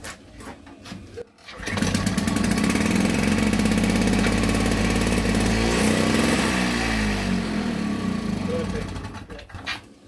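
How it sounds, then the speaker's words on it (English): A Victa Tilt-A-Cut S90 lawn mower engine, under repair, starts after a brief quiet and runs loud and close, revving and holding a steady drone for several seconds before easing back down. "It stops, it starts. And then it revs."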